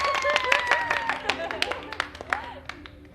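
A group applauding at an indoor gathering, a steady patter of claps with overlapping voices and chatter throughout.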